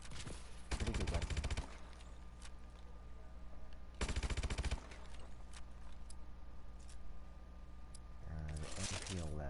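Submachine gun fire from an MP11 in a first-person shooter, heard as two loud bursts of rapid automatic shots a few seconds apart, with a person speaking between them.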